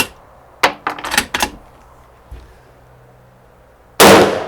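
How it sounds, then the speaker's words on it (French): MAS36 rifle firing reduced-charge blank cartridges: a quick cluster of sharp mechanical cracks and clicks, a short pause with a faint knock, then one loud close bang at the end. "ça fonctionne bien ces munitions de tir à blanc"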